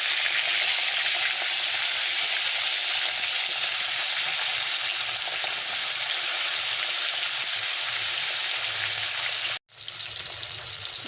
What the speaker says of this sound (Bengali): এবারে মাছটাকে আমি নুন হলুদ মাখানো হয়ে গেছে এবারে আমি এটাকে ভেজে নেবো